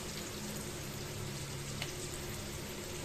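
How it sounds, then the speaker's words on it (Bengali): Potatoes frying in a pan give a faint, even sizzle that holds steady throughout with no break. "একদিকে আলু ভাজছি"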